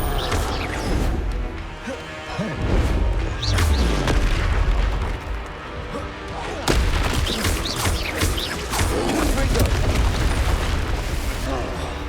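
Repeated booming blasts from Confringo spells in Hogwarts Legacy, loud and dense, crashing one after another with crackling debris over a steady clamor of combat for the whole stretch.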